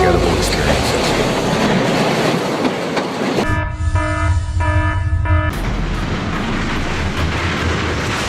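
A train runs along the tracks at a Michigan derailment scene, a loud continuous rumble and clatter with a sustained horn blast sounding in the middle.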